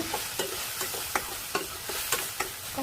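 Onions and green chillies fry in a pan with a steady, close sizzle, broken by regular scraping clicks of stirring roughly every half second; no voices.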